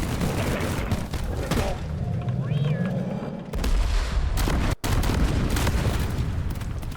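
Video game explosions and gunfire from a combat scene against a horde burst in loud, layered booms over several seconds, with a player talking over the blasts.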